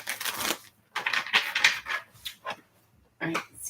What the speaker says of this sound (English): All right, Mina, this is going to be our last shuffle.